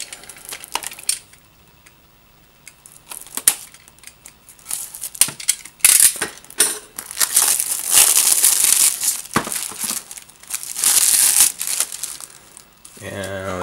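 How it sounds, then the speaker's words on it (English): Plastic seal wrap is peeled and torn off a PS4 game case, giving a stretch of close, loud crinkling and crackling with scratchy rustles that swell and fade, ending in a low thump of handling. "Now let's remove the seal."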